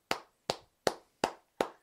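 Five distinct claps come at an even, unhurried pace. They are crisp and close, each with a short decay and nothing in between.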